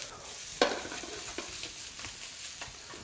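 Yangzhou fried rice stirred in a wok, with one sharp metallic scrape followed by a few softer scrapes over a steady background sizzle, close and moderately loud.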